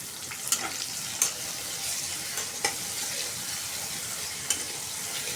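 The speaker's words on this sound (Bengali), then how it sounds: "একটু ভেজে নিব ভালোভাবে।" Prawns fry in a hot pan with a steady, fairly faint sizzling hiss, broken by a few sharp clicks as a utensil stirs and scrapes them, with no voices.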